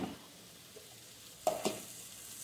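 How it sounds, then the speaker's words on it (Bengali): Ground cumin and dried chili powder tipped into a hot pan of peas filling, giving a faint steady sizzle with a couple of sharp scrapes and taps near the middle, no voices. "জিরে আর শুকনো লঙ্কার যে আমি গুঁড়োটা করে নিয়েছিলাম এটা আমি পুরোটা দিয়ে দেবো এর মধ্যে"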